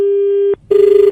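A telephone rings in two steady electronic tones, one long and one shorter, each a clean buzzy pitch separated by a brief pause, loud and close with nobody talking over it.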